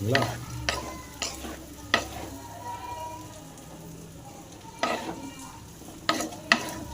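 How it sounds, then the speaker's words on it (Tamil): Lemon pickle being stirred in a pan over a low flame, with a soft continuous sizzle broken by several brief scraping clatters of the spoon against the pan. "நம்ம கலக்கும்போது பார்த்தீங்கன்னா சிம்மில் தான் இருக்கணும்"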